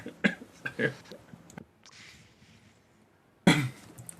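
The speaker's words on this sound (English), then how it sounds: "That made me cough." A sharp cough bursts out near the end, loud and close, after a stretch of quieter sounds and a near-silent gap.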